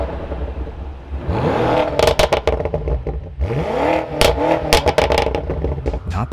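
The engine of a performance sedan, either a BMW M5 or a Mercedes E63S AMG, runs up close and loud, rising in pitch through revs with crackles and a rumbling idle between them.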